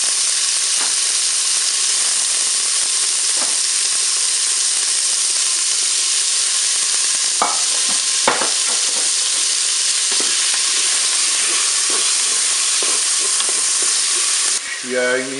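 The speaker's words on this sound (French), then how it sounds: "je vais commencer par faire revenir mes lardons." Bacon lardons frying in a preheated Cookeo electric multicooker pot, a steady loud sizzle and crackle with occasional louder pops throughout, no talking.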